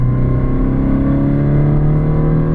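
A tuned 2023 Honda Civic Si engine, a loud steady drone with a slight rising pitch, heard from inside as it pulls under throttle, no talking.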